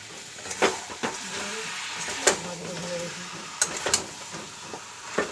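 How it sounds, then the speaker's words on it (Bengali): Spoon stirring potatoes into chicken kosha frying in a pan, with scraping clinks over a steady low sizzle, close and moderately quiet. "পাঠিয়ে সঙ্গে নাড়াচাড়া করছি আলুটা দিয়ে দিলাম"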